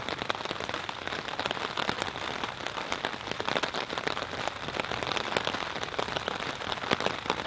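Heavy rain pours steadily at a campsite during a thunderstorm, a dense, continuous patter of drops drumming on surfaces close by for the whole stretch, with no voices.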